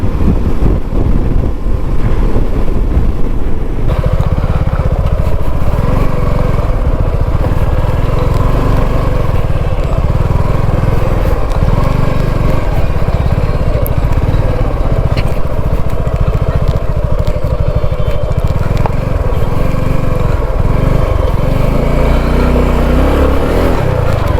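A motorbike ridden through the dark on a rough road from Akkalkot gives a loud, unbroken engine drone with heavy wind buffeting against the microphone throughout.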